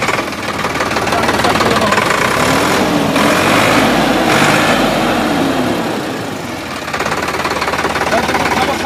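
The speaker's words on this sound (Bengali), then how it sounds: "তা আমি এখন ইঞ্জিনটা স্টার্ট করে দেখাবো আপনাদেরকে" A Sonalika DI-50 RX Supreme ploughing tractor's engine runs loud and close with a harsh, rapid knocking clatter, swelling and easing slightly over several seconds.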